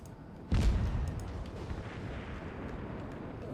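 Naval guns in World of Warships fire high-explosive shells, one loud heavy boom followed by a long rumbling decay under steady battle ambience.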